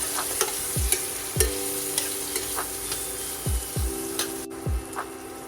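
Spiced potatoes and peas fry in a pan with turmeric, red chilli and coriander-cumin powder for khichdi, a steady sizzle under repeated scraping strokes of a spoon stirring at an uneven pace, close and alone.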